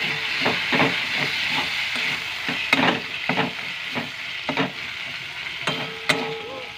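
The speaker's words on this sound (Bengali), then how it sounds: "দিয়ে আমরা এটাকে ভালো করে কষিয়ে নেব" Spices with Kashmiri chili are stir-fried for home-style aloo dum, with a hissing sizzle under close spatula scrapes and taps that come in uneven bursts, louder now and then, with no talking.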